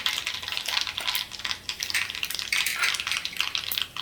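Steady crackling sizzle of mustard seeds spluttering in hot oil with asafoetida and turmeric, close and continuous with bursts of popping, no voices.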